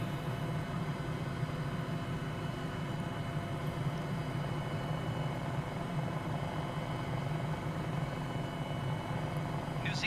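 A helicopter over the Kaimanawa Ranges gives a steady, continuous engine and rotor drone that holds an even level throughout, somewhat distant and with no clear voices.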